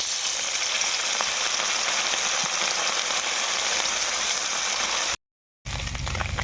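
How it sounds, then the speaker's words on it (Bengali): Fish pieces frying in hot oil in a pan, a steady, dense sizzle that runs loud and unbroken, cuts out briefly near the end, then resumes. "অল্প অল্প করে সব মাছগুলো আমি ভেজে নিচ্ছি।"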